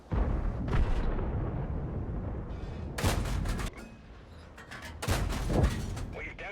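Heavy tank cannon shots from the FV4005 in World of Tanks boom out at about 0 s, 3 s and 5 s, each a loud broadband blast with a rumbling tail, over continuous battle noise.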